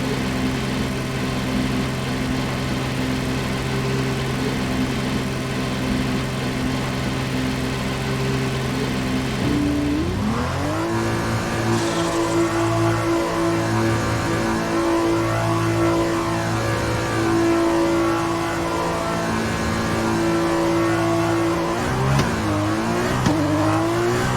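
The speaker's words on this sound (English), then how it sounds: "This V6 Mechachrome is something else, the sound." An F2 2020 car with a V6 Mecachrome engine in the F1 2020 video game, on track at Bahrain, holds a loud, steady buzzing drone, then revs up sharply partway through and keeps howling through gear changes with no speech.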